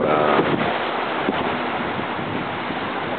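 Shallow, calm sea at Eagle Beach, Aruba, a soft continuous wash of water mixed with steady wind buffeting against a nearby microphone.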